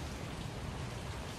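Steady rain falls continuously, a dense even hiss with soft patter on a surface, moderately quiet and unbroken, with no voices.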